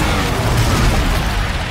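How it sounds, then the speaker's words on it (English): An explosion in the video game Call of Duty Infinite Warfare makes a loud, dense roar of blast noise that is sustained and rumbling throughout, with no voices over it. "What is that explosion that keeps happening?"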